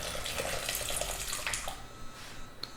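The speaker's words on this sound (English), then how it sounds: "So I'm gonna pour a little bit of this in." Liquid poured from a container into a dough mixture in a kitchen, a soft close splashing trickle with a few small bursts, fading toward the end.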